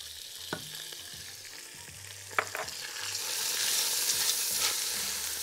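Pasta and onion frying in a pan, steady sizzling that rises and grows louder partway through, with a few scraping stir sounds and clinks near the start.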